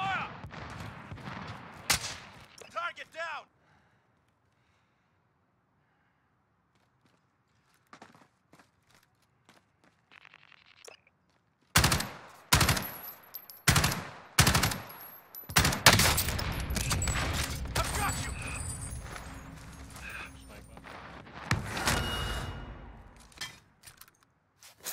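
Gunfire in Call of Duty: Warzone: a few faint shots early on, then a quiet stretch, then loud, dense bursts of rapid shooting and impacts that continue nearly without pause to the end.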